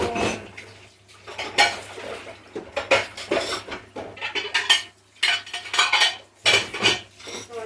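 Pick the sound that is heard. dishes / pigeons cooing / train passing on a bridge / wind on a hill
dishes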